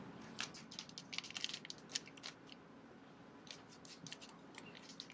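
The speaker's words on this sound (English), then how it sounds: "It's packaged well inside ESD protection plastic bag." An anti-static ESD plastic bag holding a 4-inch LCD display for a Raspberry Pi 4 is opened, giving quiet, close crinkles and sharp snipping or tearing clicks in irregular clusters, with no talking.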